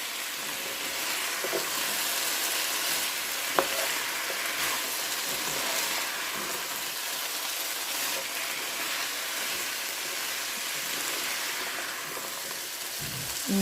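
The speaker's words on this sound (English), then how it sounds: "Now I'm gonna stir this." A seasoned sausage, egg and potato casserole mixture being stirred, heard as a steady broad hissing wash with faint soft scraping and a single sharp tap partway through, moderately loud throughout.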